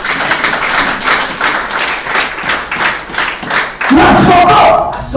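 A church congregation cheers and acclaims loudly during a sermon, a roaring crowd of shouts mixed with clapping, steady and close, then a single voice rises over it near the end.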